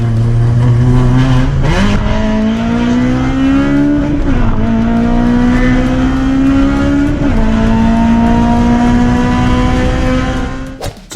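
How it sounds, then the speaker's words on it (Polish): A Japanese-market Honda Civic Type R sedan with a high-revving K20A engine screams past loudly, its note climbing through several gear changes in a continuous sustained wail before cutting off at the end. "To co tak przeleciało to Honda Civic Type R, wersja z Japonii, w sedanie"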